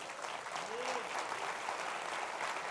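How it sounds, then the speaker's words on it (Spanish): Congregation applauding during a church service, steady sustained clapping from a crowd, faint and somewhat distant, with a voice briefly rising over it. "denle un aplauso al Señor"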